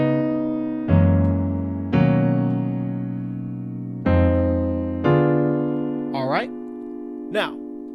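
Slow piano playing the first intro section of a song, six sustained chords struck one after another and left ringing, with a brief high note flourish near the end; close and clear with no voices.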